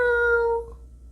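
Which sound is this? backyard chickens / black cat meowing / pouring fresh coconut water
black cat meowing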